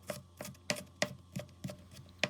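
Onion being chopped with a knife on a board for chebureki filling: seven or so crisp, evenly spaced chops close up, with no talking.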